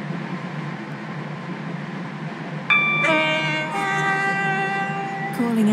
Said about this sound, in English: We will shortly be arriving at Leighton Stepford Road